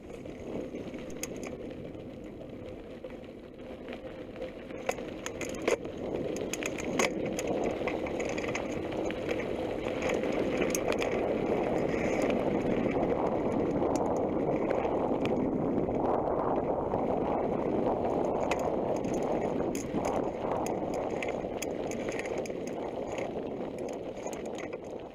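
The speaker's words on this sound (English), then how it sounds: "the audio picks up very well, even though there is quite a lot of wind" Steady wind buffeting and rushing on a motorcycle-mounted camcorder, a continuous broadband roar with road and engine rumble beneath, fairly even throughout.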